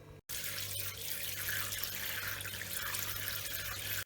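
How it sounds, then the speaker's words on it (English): Tap water runs steadily into a bowl of rice being washed in a home kitchen, a continuous close splashing hiss with a brief gap near the start and no voices. "put the rice in a bowl and wash it with water 2 to 3 times until the water runs clear"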